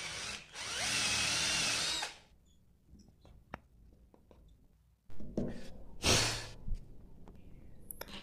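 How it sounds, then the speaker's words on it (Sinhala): An electric drill bores holes in marked spots on a homemade microscope part, with a loud, steady whine of about two seconds, then quiet handling and a second, shorter burst. "මාක් කරගත්ත තැන් මම මේ විදිහට ඩ්‍රිල් එකකින් සිදුරු කරගන්නවා."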